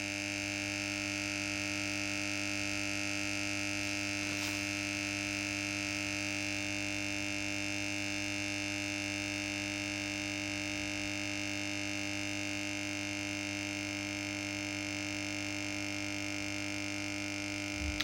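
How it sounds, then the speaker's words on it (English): A 250 watt lamp ballast warming up gives a steady, constant electrical hum with a faint pulsing throb, unchanging throughout and with no talk. "Ballast is making a completely different noise"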